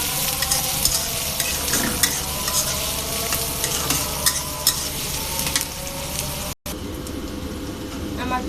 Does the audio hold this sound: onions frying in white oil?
yes